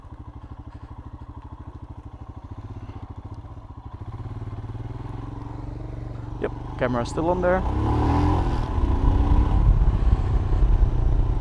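A 2020 Royal Enfield Himalayan motorcycle engine drones steadily on the road after an off-road stretch, the note rising as it accelerates near the end, with someone talking over it.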